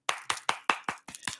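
Seven crisp hand claps in an even rhythm, loud and close, with a brief gap before the last three come slightly quicker, and no talking over them.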